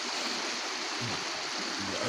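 Fast-running water rushes in a steady broadband wash, close and constant throughout, with a couple of faint low gurgles near the end.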